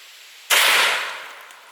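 A Benelli Supernova shotgun fires a single loud, close blast, loaded with a nail shell and aimed at a watermelon. The report cracks sharply after a quiet lead-in, then fades over about a second.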